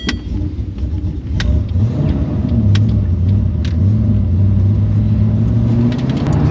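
Ford Falcon FPV GT with race pipes and its exhaust valves closed, a steady deep engine rumble heard from inside the car while cruising, with the pitch rising and settling under gentle throttle.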